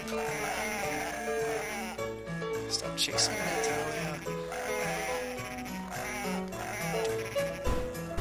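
Cartoonish sheep bleats from the Dreamcast game Cool Herders pop up amid busy, looping game music, with a player's voice talking over the mix throughout.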